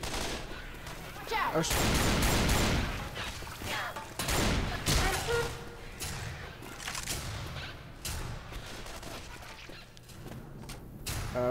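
Shotgun gunfire in the zombie video game Left 4 Dead 2, loud booming blasts and bursts of shots repeating over several seconds amid game noise, with people talking over it.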